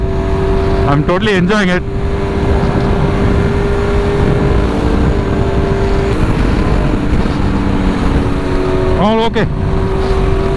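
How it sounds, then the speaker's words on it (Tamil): Kawasaki Z900 motorcycle fitted with an LV full-system exhaust, riding with a steady loud engine drone throughout and brief rising revs near the start and end, while a rider talks over it. "ஃப்ரெண்டோட வண்டி வந்து அந்த எக்ஸாஸ்ட் சவுண்ட் வந்து அப்படியே பட்டையை கிளப்புது"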